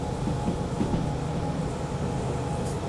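A diesel freight train hauling a heavy steel load in Derail Valley gives a continuous low rumble and rolling drone, steady and fairly loud throughout with no talk.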